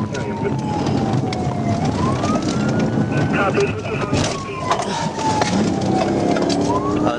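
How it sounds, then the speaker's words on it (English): A police car's siren wails up and down during a high-speed chase on a highway, the sweeping tone riding over heavy road and engine roar with radio chatter and talk mixed in. "I turned on my audible siren"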